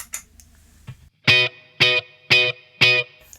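Electric guitar with a faint touch of overdrive, heard as four bright, ringing strummed chords in a steady rhythm, each sustaining briefly then cut, after a few quiet string ticks.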